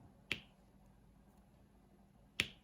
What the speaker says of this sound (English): It makes a really nice popping sound.